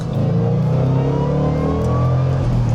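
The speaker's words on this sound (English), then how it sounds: "Just the twin personality noise of a supercharged V8." A Roush Mustang's supercharged V8 with a twin-screw supercharger revs up close and loud, its rising blower whine riding over a deep, steady exhaust rumble throughout.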